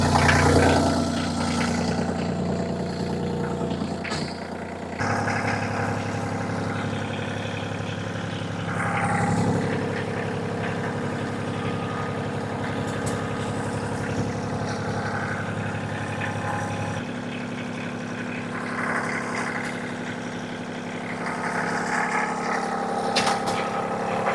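A steady, low engine idle rumbles continuously throughout, with a heavy diesel drone and occasional mechanical clanks over a constant hum.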